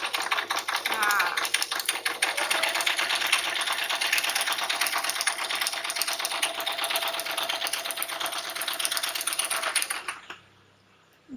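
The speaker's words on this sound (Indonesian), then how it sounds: "Nah ini jahit, jangan lupa setiap menjahit dikunci terlebih dahulu." Sewing machine stitching a fabric pocket, a loud, steady fast mechanical whirr running for about ten seconds before stopping abruptly, with someone talking faintly over it.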